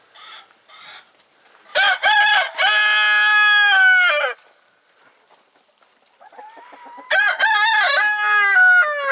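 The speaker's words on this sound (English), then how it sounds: "it's all day long with the crowing" Farmyard roosters, one of four kept in an old barn converted into a chicken coop, crow loudly and close by in two long, drawn-out calls separated by a quiet gap, with faint clucking between them.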